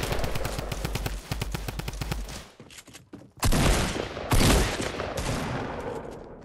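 Rapid automatic gunfire in Fortnite Battle Royale, a fast even burst of close shots followed by a brief lull and then two heavier, louder blasts.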